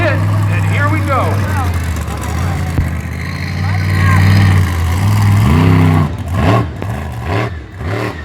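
Monster truck engine at Wiscasset Speedway, loud and close, growling steadily, then revving in rising and falling surges near the end, with excited crowd and announcer voices mixed in.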